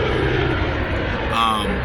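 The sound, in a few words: airplane flying overhead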